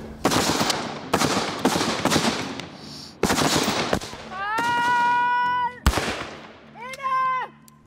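Rifle shots fired at a small 15x15 cm paper target during Danish light infantry reenactment drill: loud sharp cracks in uneven succession, with shouted commands between them.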